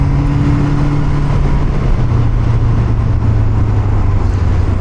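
A 1977 Honda Hondamatic motorcycle, a CB750 with automatic transmission, runs on the road as the rider shifts down to low, giving a loud, steady engine drone with wind rush close to the microphone.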